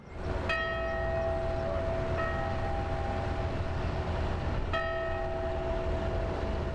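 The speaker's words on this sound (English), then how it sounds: "Those on board ring her bell just like the old days" Ship's bell rung aboard the old steamboat Snyder while under tow, three bright metallic strikes spaced a few seconds apart, each leaving a long ringing tone over a low steady background rumble.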